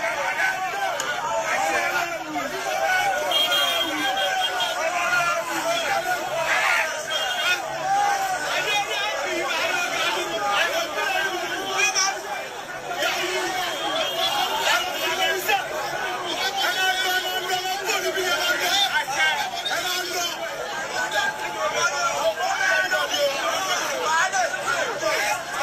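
Many people at a Yoruba nation rally talk and call out at once, forming a thick, continuous crowd babble that stays loud and even from start to finish.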